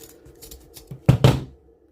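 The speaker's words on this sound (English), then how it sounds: "I'm just going to snip that off" Two quick scissor snips cutting through cord on a small DIY western-style bag frame, close and crisp, following a few faint handling clicks.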